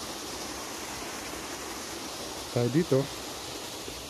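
Flowing water at Solymar Waterfalls in Hungary makes a steady, broad rushing hiss throughout, with a person briefly speaking near the end over the continuous water noise.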